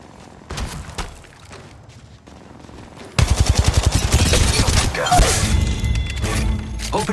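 Automatic gunfire from a firefight in the video game Apex Legends, with sparse shots early on, then a loud, rapid burst of near rounds that holds at high intensity for the last four seconds.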